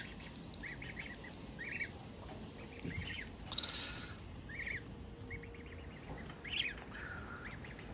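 Newly hatched swan cygnets peep in short, high chirping bursts scattered through the stretch, fairly close, over a steady outdoor background hiss with no talking.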